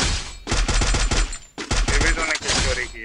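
Rapid bursts of gunfire from the Free Fire mobile game, several quick volleys of sharp cracks in two clusters separated by a brief gap, loud and close with some game sound mixed in.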